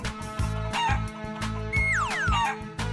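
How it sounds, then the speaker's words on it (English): Chicken clucks and squawks bounce over a loud, rhythmic music track with steady beats, a rising and falling cartoonish cluck standing out in the second half. "Chicken."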